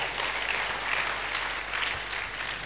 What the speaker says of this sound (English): please give her a round of applause again.